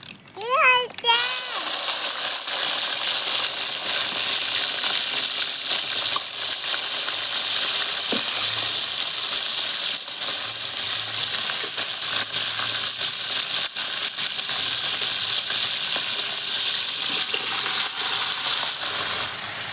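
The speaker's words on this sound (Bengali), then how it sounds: "ফোড়নে দিয়ে দিচ্ছি পাঁচ ফোড়ন" Panch phoron five-spice seeds tempering in hot oil in a home kitchen, a steady bright sizzle and crackle that holds loud and even for the whole stretch after a short opening voice.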